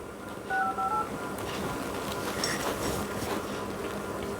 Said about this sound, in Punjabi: ਚਲ ਮੈਂ ਮੰਮੀ ਨੂੰ ਕਾਲ ਕਰਦੀ ਆ